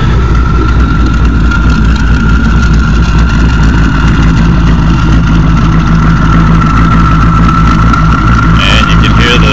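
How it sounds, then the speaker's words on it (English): Twin turbos whine on an 800 HP 2008 Dodge Challenger, a thin steady whistle riding above a loud, continuous engine rumble close by. "And you can hear the twin turbos whining."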